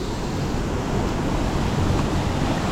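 A steady, broadband roar of rushing water from Dagubdob Falls in Romblon, Philippines, fills the clip, loud and unbroken, like a waterfall heard close by.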